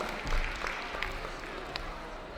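Audience at a Ramadan festival dinner claps in a brief round of applause, scattered hand claps rising early then thinning into a murmuring crowd, moderately distant.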